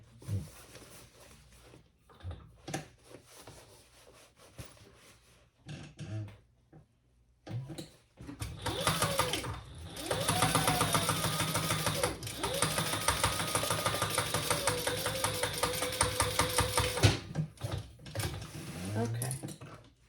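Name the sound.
sewing machine stitching a seam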